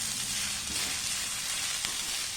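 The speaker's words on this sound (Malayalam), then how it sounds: "ഇത് നമുക്കിനി ഒന്ന് ഇളക്കി കൊടുക്കാം." Paneer cooking in a pan for a mayo roll filling gives a constant close sizzle with a few soft scraping stir sounds, moderately loud and without any voices.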